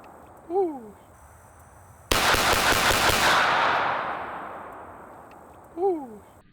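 A Sig P226 Legion or HK USP Expert pistol fires a fast string of shots, making a dense, sharp, clanging burst that rings out and fades slowly. Birds chirp faintly before and after.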